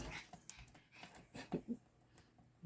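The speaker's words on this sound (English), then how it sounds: "and there goes my dogs." Dogs at home whimper and whine in faint, brief bursts, with soft snuffling and panting sounds in a quiet room.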